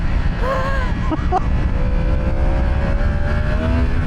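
A Yamaha R1 engine howls close by under hard acceleration while the bike wheelies out of a corner, a loud, rising roar with shifting pitch and some wind noise throughout.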